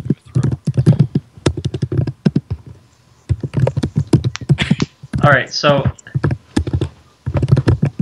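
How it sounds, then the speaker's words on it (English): Fast clattering keystrokes on a computer keyboard in quick bursts with short pauses, close and loud, with a voice speaking briefly partway through. "Sorry, I'm typing a new card."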